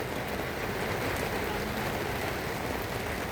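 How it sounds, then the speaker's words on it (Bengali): Heavy rain falling steadily in Al Buraimi, Oman, a dense, even broadband hiss that holds at one level throughout with no talk over it. "ওমান আল বেরোমিতে বৃষ্টি হইতেছে, প্রচুর বৃষ্টি হইতেছে।"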